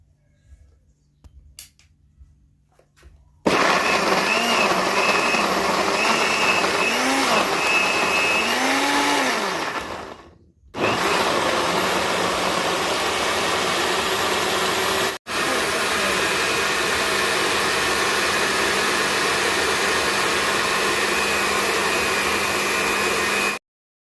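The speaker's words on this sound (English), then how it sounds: "We are going to blend" Carrots whir in a kitchen blender. A few quiet seconds come first, then a loud steady motor roar with shifting tone as the contents churn, broken by two brief stops before it runs on.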